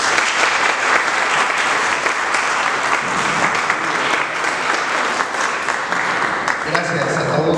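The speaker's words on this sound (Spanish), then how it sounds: "le vamos a brindar un fuerte aplauso" Audience applause at a religious conference in Mexico, a dense, sustained clapping from a sizable crowd, loud and even throughout and fading slightly near the end.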